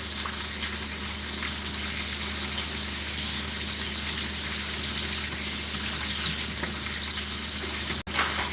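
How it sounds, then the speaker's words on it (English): A tap runs steadily over raw salmon as it is rinsed, a constant loud hiss of running water close by, briefly broken by a short knock near the end. "I'm going to wash this off real quick."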